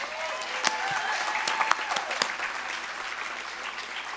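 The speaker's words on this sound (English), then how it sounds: "I would like you to give him a round of applause, too." An audience at an indoor benefit event gives a round of applause, fairly faint, steady clapping from many hands with a few sharper individual claps standing out, tapering slightly toward the end.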